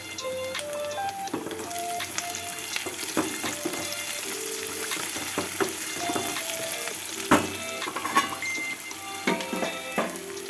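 Fenugreek leaves and lentils sizzle steadily in a pan as they fry, with occasional sharp clinks and scrapes from stirring, close and continuous throughout.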